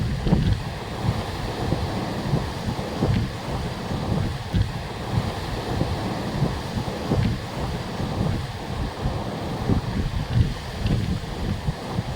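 Strong wind buffets outdoors, gusting noisily with a rumbling roar, and waves or water wash underneath throughout.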